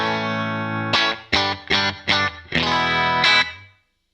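Electric guitar through an HX Stomp preset with reverb on plays a held chord then a series of rhythmic chord stabs, each ringing out with a soft lingering reverb tail.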